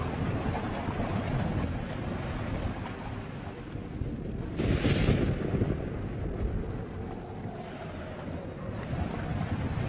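A river of ash in an animated Buddhist hell scene gives a continuous roaring, rushing wash that swells into a louder surge midway, then settles back to a steady rumble.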